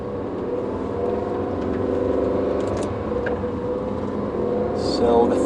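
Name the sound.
2018 Aston Martin Vantage pulling away in first gear on track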